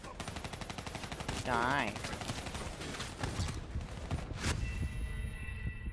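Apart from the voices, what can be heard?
gunfire in video game Call of Duty Black Ops 3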